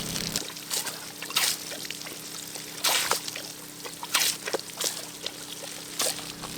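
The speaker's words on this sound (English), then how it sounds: "We have water again." Water pours and trickles steadily from a repaired water line on a homestead, with splashing surges and sloshing bursts at intervals, close and fairly quiet, no voices.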